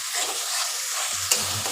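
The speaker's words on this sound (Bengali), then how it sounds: "দিয়ে এই 5-6 সেকেন্ড ওটা একটু নাড়বো" Soaked dried chili powder is stirred in a hot pan for an egg coconut malai curry, giving a close, even sizzle with a few soft scrapes and one sharp clack of the spoon near the end.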